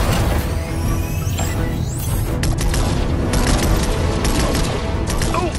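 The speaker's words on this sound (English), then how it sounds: "I was hoping we'd have an excuse to try out the Battle Bus's laser cannons." Battle Bus laser cannons fire at drones during a Fortnite live event, a dense, continuous barrage of zaps and booms layered over rumbling game effects and scattered metallic clatter.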